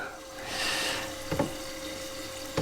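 Water runs into the sump of a Red Sea Reefer 350 reef tank, a soft steady flowing wash with a faint pump hum beneath and a couple of small knocks.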